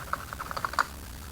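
Keys on a computer keyboard are tapped in a short, quick burst of about eight close, light clicks, ending in a slightly louder press, with no voices heard.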